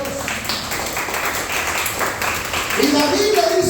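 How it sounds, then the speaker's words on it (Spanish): A church congregation claps and applauds, a dense burst of clapping under a voice speaking over it, growing slightly louder toward the end. "Dale un aplauso a Dios."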